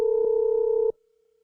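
A steady electronic phone tone sounds while dialing a 4G relay switch controller to turn off a light, holding evenly for about a second before cutting off abruptly.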